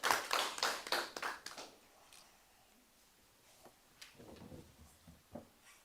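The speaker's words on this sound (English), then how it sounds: "Please give him a round of applause" Audience applause at a disability inclusion seminar at a university: a dense burst of clapping for the first second and a half, then trailing off into a few faint, sparse claps and quiet room sound.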